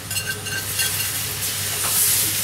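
Flour tipped into plenty of hot fat in a big frying pan for chicken gravy, giving a brief, steady hiss and sizzle heard up close without talking.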